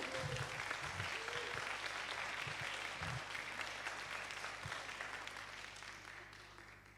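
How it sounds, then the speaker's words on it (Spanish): Applause from an audience at a health datathon event in Chile, greeting a competing team: a steady wash of clapping that fills the whole stretch and tapers slightly toward the end, with low voices murmuring underneath. "Un aplauso por el equipo del Desafío 1."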